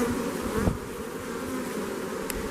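Steady, dense buzzing of many honeybees in an open hive being divided, close by, a continuous hum with a faint thump near the start.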